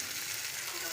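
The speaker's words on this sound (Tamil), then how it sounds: "இது எல்லாத்தையுமே நல்லா வணக்கலாம்." Spice powders (coriander, red chilli, turmeric) frying with onion and tomato in a pan for a white chickpea curry, a steady soft sizzle with no speech.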